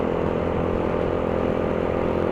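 A small 2007 Suzuki Raider J motorcycle engine runs steadily throughout, a continuous buzzing drone with no pauses and no voices.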